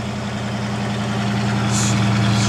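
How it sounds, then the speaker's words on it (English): A 1967 Ford Mustang coupe engine idles steadily up close, a deep, even rumble holding constant loudness with no talk over it. "Strong motor. Yeah. Rev it a little."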